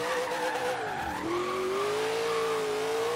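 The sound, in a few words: twin turbo AMC AMX drifting, video game Forza Horizon 3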